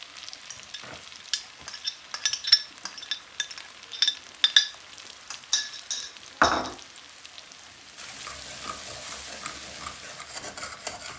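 About 30 grams of garlic frying in a pan for a Bangladeshi egg curry: soft steady sizzle under sharp, repeated spoon clinks and scrapes against the pan, then a broader hiss rising near the end.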